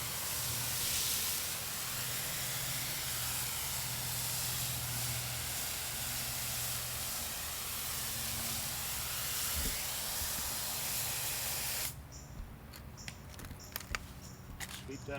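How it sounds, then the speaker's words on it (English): Water jet hissing steadily as cement is rinsed off patio bricks, a continuous close spray that stops abruptly near the end, leaving faint scattered knocks. "I'll rinse it down until most of the cement comes off of the bricks"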